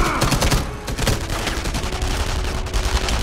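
Dense gunfire crackles throughout a battle in the video game Enemy Front, overlapping rifle and machine-gun bursts forming a steady, loud fusillade with no talking.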